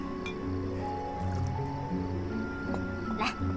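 Wine is poured into a cup in a period costume drama, making a soft liquid trickle with faint drips. It plays under sustained background music, and voices are heard.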